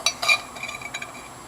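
Metal pot holder clipped onto a camping pot from a bushcraft meal kit: a couple of sharp close metallic clinks followed by lighter rattling taps, brief and alone.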